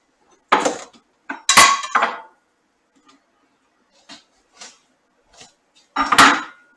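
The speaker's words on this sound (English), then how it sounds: "I'm stirring again right now." A spoon knocks and scrapes in a pot of sausage and bean casserole, giving several sharp clinks in short bursts separated by quiet pauses, close and fairly loud.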